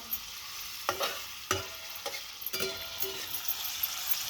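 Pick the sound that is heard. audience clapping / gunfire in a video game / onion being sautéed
onion being sautéed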